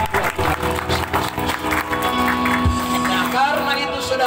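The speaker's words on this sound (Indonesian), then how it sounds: "Beri tepuk tangan yang terbaik buat Tuhan Yesus" A congregation at an evangelistic gathering in a village in NTT, Indonesia, claps beneath loud talk and music, with the applause blending into a busy, continuous mix rather than standing alone.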